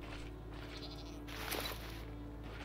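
A faint goat bleat from a video game rises over a steady synthetic hum and background noise, quiet and somewhat distant.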